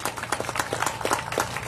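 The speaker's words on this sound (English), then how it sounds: "Let's give them a round of applause." An audience claps at a chamber of commerce grand opening, a brief burst of steady applause from a modest crowd, fairly close and without speech over it.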